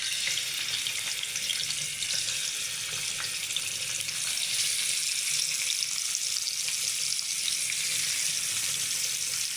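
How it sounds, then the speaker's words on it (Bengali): Katla fish frying in hot oil over a medium flame gives a steady, dense sizzle and crackle that runs evenly throughout, fairly close and with no voices. "এখন আমি সুন্দর করে মাছগুলো ভেজে নিচ্ছি"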